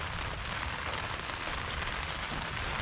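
Steady rain falls throughout during a stormy day, a dense, even hiss of drops close by with no pauses or voices.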